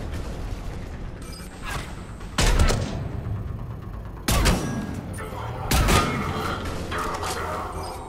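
Rifle fire in the Mass Effect 3 video game, three loud bursts of shots separated by quieter stretches of game ambience with mechanical clicks.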